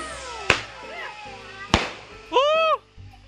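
Firecrackers set off for New Year crack in a few sharp, loud, separate bangs spread over a few seconds, with a brief voice cry between them and background chatter.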